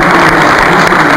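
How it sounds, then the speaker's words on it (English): Audience applause for hypnosis subjects at a stage demonstration fills the moment as a dense, loud wash of clapping, steady and unbroken across its short span. "If you don't mind giving them a round of applause"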